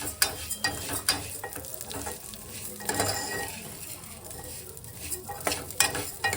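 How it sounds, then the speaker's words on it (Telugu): Vermicelli (semiya) frying and being stirred in a pan until lightly browned, a soft continuous sizzle broken by scraping and clinking of the spoon against the pan. "కొంచెం కలర్ వచ్చే వరకు, కొంచెం బ్రౌన్ కలర్ వచ్చే వరకు ఫ్రై చేసుకో"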